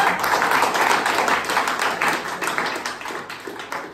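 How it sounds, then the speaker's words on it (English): An office gathering audience claps together in a steady patter of many hands that fades slightly toward the end, with no talking over it. "Can we clap once again for Gazipur people?"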